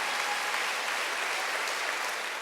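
A church congregation claps together during a Sunday worship service, a dense, even wash of applause that holds steady at moderate loudness throughout.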